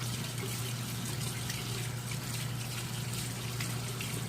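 Tap water runs steadily over a makeup brush being rinsed at a sink, a constant loud gushing stream with no talking.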